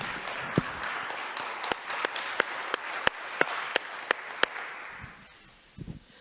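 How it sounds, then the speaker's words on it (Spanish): A church congregation during a sermon gives a soft, steady patter of applause, with a few sharp, close hand claps standing out above it before it quiets at the end. "Dale un aplauso fuerte al Señor."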